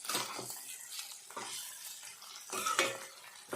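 Chopped tomato stirred in a pan over lowered heat for a Bengali bottle-gourd kofta curry, giving a steady close sizzle with repeated scraping strokes and light clinks of the spoon against the pan.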